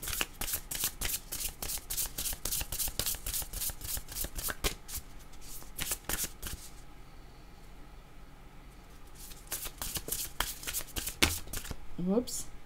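Tarot cards being shuffled in repeated quick riffling bursts, crisp and close, with a pause in the middle before the shuffling resumes; a voice speaks faintly at times.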